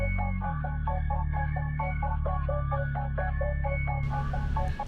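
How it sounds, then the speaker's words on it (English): Droney filtered bass from a bass preset in a trap beat, a deep sustained low hum with highs rolled off under a repeating plucked melodic pattern, steady and alone, ending with a burst of brighter noise near the end. "this kind of a droney sounding bass."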